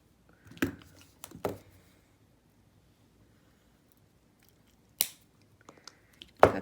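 Snips of memory wire being cut with a cutter while a red and black bead bracelet is made, a few sharp metallic clicks at scattered moments, close and separated by quiet gaps.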